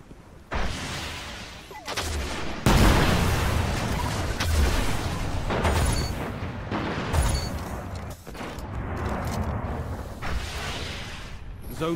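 Gjallarhorn rocket launcher fire in a shooter game: dense, continuous bursts of heavy gunfire, whooshing rockets and booming explosions fill the mix loudly, with shouted voices under the barrage.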